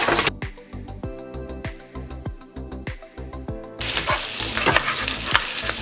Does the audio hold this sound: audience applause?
no